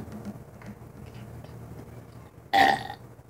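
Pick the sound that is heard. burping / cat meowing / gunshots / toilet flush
burping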